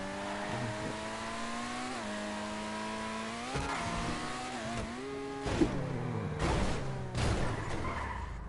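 A car driven in Grand Theft Auto V, its engine droning and rising in pitch as it revs and accelerates, followed by loud tire skids and scrapes near the end.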